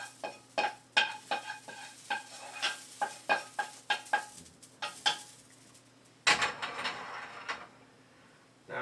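Ground beef cooking in a pan, with repeated close scraping and stirring knocks against the metal over a soft sizzle, ending in a louder burst of frying hiss.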